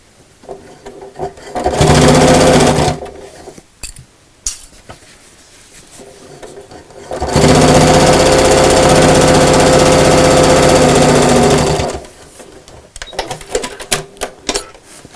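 A sewing machine stitches a quilted fabric shopping bag in two steady, loud motor-driven runs, a short burst then a longer continuous one, with handling clicks and pauses between.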